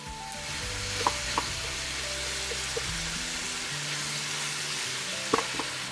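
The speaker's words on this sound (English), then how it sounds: "we want to cook these until the onions get soft" Onions, garlic and ground beef fry in a skillet with a steady, close sizzle, broken by a few faint clicks and scrapes of stirring.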